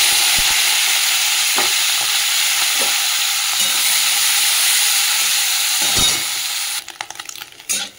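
Prawns dropped into hot oil in a wok sizzle loudly and steadily, with occasional stirring clinks, before the frying hiss cuts off abruptly near the end, leaving a few scattered clatters.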